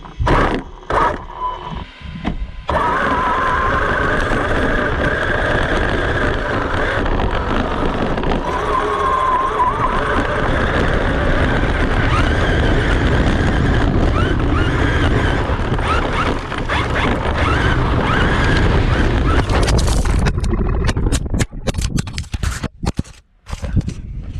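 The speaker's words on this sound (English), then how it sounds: "a 50-mile-an-hour electric RC car flying up a hill" Kraken RC VESLA.5, a 50-mile-an-hour electric RC car, climbing a hill: a loud, sustained motor whine with gritty scraping and rumbling terrain noise, ending in clattering bumps and knocks.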